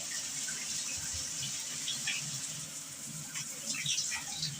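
A shower runs steadily, water spraying and splashing close by in a continuous even rush with no voices.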